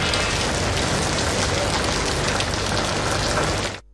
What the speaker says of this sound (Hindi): फिरोजपुर रोड में बरसती बारिश ने गर्मी की छुट्टी करा दी।